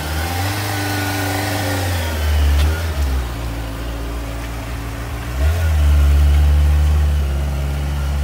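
A 2004 Suzuki GSX-R 600 sport motorcycle engine runs close by, holding a steady drone that revs up twice in smooth rising surges, with no talk over it.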